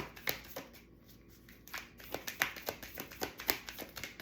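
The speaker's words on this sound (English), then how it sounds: "the deck has to be shuffled a certain way" A tarot deck shuffled by hand, giving a run of quick papery riffles and taps that come in bursts, close and fairly quiet, with a short lull partway through.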